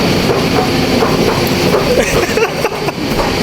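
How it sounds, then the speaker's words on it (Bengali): Steady, loud train rumble with rattling and clattering, as from inside or beside a moving MRT metro car in Kuala Lumpur, Malaysia, broad noise throughout. "দেখেন ট্রেনগুলো দেখবেন কেমন এমআরটি"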